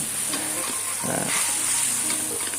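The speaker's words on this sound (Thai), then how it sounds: "ก็ผัดทุกอย่างให้เข้ากันเลยนะครับผม" Chicken liver and bell peppers are stir-fried, a continuous sizzle with soft scraping as the pan contents are tossed, fairly close and steady.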